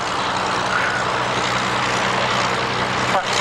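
A propeller aircraft flies low over the airfield at the Middle Wallop Army Air Corps airshow in 1998, a loud, steady engine drone held throughout, with broad crowd and wind noise underneath.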